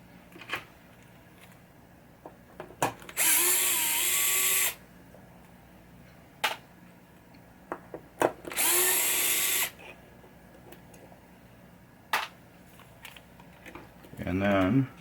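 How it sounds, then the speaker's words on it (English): Power drill backing screws out of a 1967 Williams Blast Off pinball motor board, two sustained whirring bursts of about two seconds each, up close, separated by small clicks and handling taps, with a third short burst at the end. "We'll get these two screws out."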